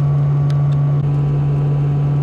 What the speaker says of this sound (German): Windgeräusche machen sie alle, ne?